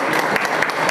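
Applause for quiz teams at a classroom quiz: a brief burst of many hands clapping together, dense and lively, with no talk over it.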